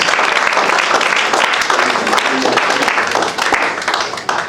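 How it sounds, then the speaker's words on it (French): A church congregation claps hands together in worship during a prayer and fasting service, the dense, steady applause filling the room loudly and continuously before tapering slightly at the end. "Clap your hands for the Lord."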